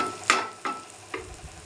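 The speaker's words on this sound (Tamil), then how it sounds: "வெங்காயம் தக்காளி போட்டு ரெண்டையும் இதே மாதிரி வதக்கணும்" Onion and tomato sautéing in oil in a pan for a bitter gourd gravy, a steady soft sizzle broken by three scraping stirs of a spoon, close and alone.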